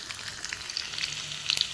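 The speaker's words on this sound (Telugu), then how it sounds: "ముందుగా ఒక పాన్ పెట్టుకొని దానిలో ఆయిల్ వేసుకొని వెల్లుల్లి, ఎండుమిర్చి, తాలింపు దినుసులు అన్నీ వేసేసుకొని" Garlic, dried red chillies and tempering spices fry in oil in a pan, giving a faint, steady sizzle with scattered small crackles and pops throughout.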